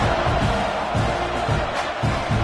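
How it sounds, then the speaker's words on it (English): A stadium crowd roars with a loud, steady buzz in College Football 25 after a score, with faint rhythmic swells of chanting and cheering throughout and no talk over it. "this crowd is buzzing after that last score"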